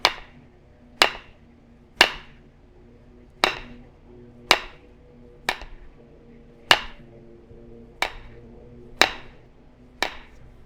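A stone hammer strikes rough Iowa rock while trimming cortex during flintknapping, giving about ten sharp, close clacks spaced roughly a second apart, each with a short ringing decay and nothing else in between.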